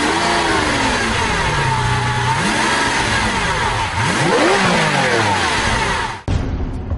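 The mid-mounted 48-valve V12 of a 2012 Lamborghini Aventador LP 700-4 revs loudly and up close, its pitch rising and falling in repeated sweeps before cutting off sharply near the end.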